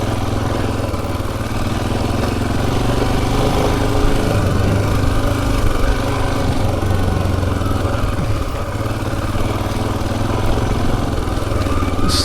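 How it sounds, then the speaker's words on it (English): A Royal Enfield Himalayan motorcycle ridden along a single-track trail, its engine a steady, loud, close thrum with constant wind and terrain noise throughout and no talking. "Single track fun on the Himalayan."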